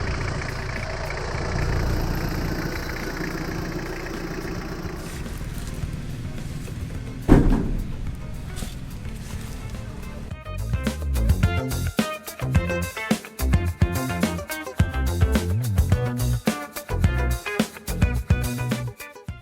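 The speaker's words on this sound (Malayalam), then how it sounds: "ഇജാസ് ഡോക്ടറുടെ 1986 മോഡൽ മാർക്ക് 4-ൽ വരുന്നത് ടൊയോട്ടയുടെ 2C TDI എന്ന് പറയുന്ന എഞ്ചിനാണ്." A Toyota 2C-TDi diesel engine idles in a modified 1986 Ambassador Mark 4, giving a steady low rumbling hum up close, followed by a sharp knock and then rhythmic music taking over.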